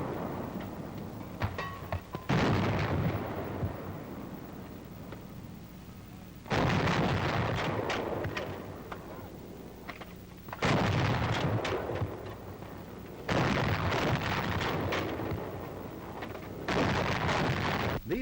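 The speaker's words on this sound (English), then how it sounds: "the battery safety officer gives the signal to commence firing" A 90 mm antiaircraft gun fires five booming rounds at roughly four-second intervals, each loud blast followed by a rumbling decay, with no talk.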